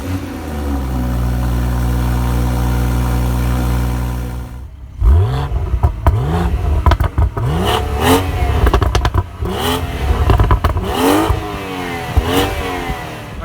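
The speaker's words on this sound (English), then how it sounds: "But the best thing about this car is the exhaust." A 2018 BMW X3 M40i idles with a steady low drone, then its exhaust barks through a string of sharp, loud revs that rise and fall repeatedly, close by with no talk.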